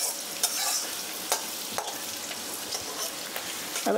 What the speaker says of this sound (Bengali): এটা ভাজা ভাজা হচ্ছে